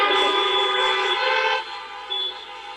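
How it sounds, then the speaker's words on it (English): Loud sustained honking from several car horns blaring together at a drive-in event, holding a steady harmonic blare before tapering slightly. "Another round of honks for Carlo, please."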